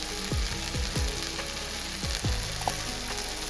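Boal fish curry masala frying in a pan, a constant close sizzle broken by a few quick scraping strokes of stirring, with no talk.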